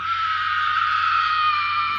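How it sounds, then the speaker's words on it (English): A woman screams on a Foley stage for The Lord of the Rings, one sustained, piercing, high-pitched shriek held steadily from start to finish, close and loud with no other sound. "Got the most spine-chilling screams I've ever heard"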